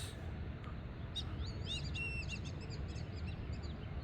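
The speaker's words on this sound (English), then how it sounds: "Look at the birds." Small birds chirp and sing outdoors, a cluster of quick high tweets and warbles starting about a second in and continuing, moderately close over a steady low rumble of background noise.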